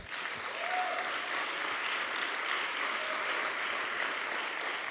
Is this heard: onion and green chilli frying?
no